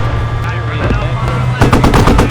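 A machine gun firing in a video game, a fast steady rattle of shots that turns louder and harsher near the end, layered over a constant engine drone and loud in the foreground.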